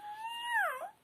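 A voice mimics a cat's meow: one short, close, drawn-out mew that bends downward at the end, with nothing else heard around it.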